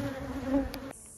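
Honeybees buzz around a hive in a brief, close, steady drone that stops abruptly near the end.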